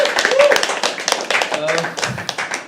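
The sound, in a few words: applause for the host Harsh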